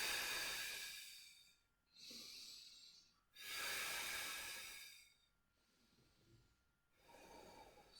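Slow, deep breaths during a Pilates exercise: two long, fairly loud hissing inhales and exhales alternate with quieter pauses, close to the microphone with no talking.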